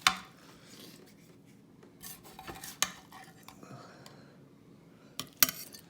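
Knife scraping and clinking through a small piece of meatloaf in a pan, with soft rasping strokes and a few sharp metallic taps against the pan, close and fairly quiet.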